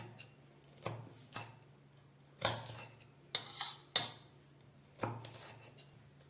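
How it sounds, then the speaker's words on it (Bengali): A knife cuts capsicum on a board: several separate chopping knocks at an uneven pace, moderately close, with quiet pauses between them. "ক্যাপসিকামটাও আমি কেটে দিচ্ছি"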